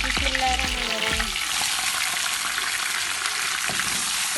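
Chopped onions hit hot oil in a pan for fish keema, giving a loud steady sizzle and crackle that runs alone throughout, with some stirring clatter near the start.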